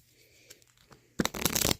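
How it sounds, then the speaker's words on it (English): Supply cards from The Oregon Trail card game being shuffled: a quiet lead-in with soft handling sounds, then a loud, dense riffle of cards close by for about half a second at the end. "Shuffle them up."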